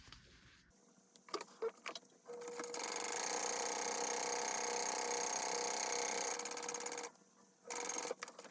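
Home sewing machine stitching a quarter-inch seam on a Joliette coffin bag, preceded by a few short clicks and handling sounds, then a steady mechanical run of about four seconds that stops, followed by a brief second burst.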